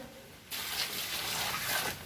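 Water from a tap splashes into a bucket being filled for soaking cocopeat, a steady rushing stream that starts abruptly partway through and runs loud and close to the end.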